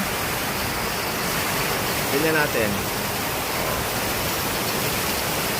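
Heavy rain pours steadily in a broad, even hiss as water leaks from the roof and drips from the ceiling inside a house, with a person speaking briefly over the downpour.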